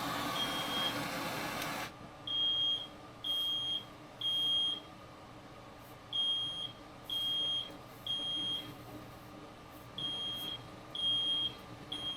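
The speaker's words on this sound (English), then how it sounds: "So you got a smoke alarm go off." A smoke alarm chirps in short, evenly spaced high-pitched beeps, roughly one per second in groups, over a low background hum after a brief burst of noise, in a flooded basement.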